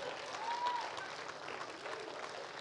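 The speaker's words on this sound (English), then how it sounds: "Give me a hand clap right now if you would." Faint, distant crowd applause at an Easter church service, a soft continuous wash of clapping heard from afar with no voices over it.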